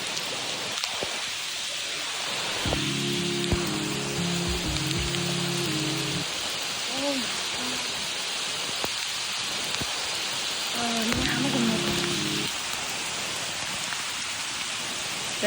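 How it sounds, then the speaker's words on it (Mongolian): Rain falling on Koh Phangan, a steady, soft hiss running throughout at moderate distance, with brief droning mechanical tones rising and fading over the wash twice in the middle. "Бороо."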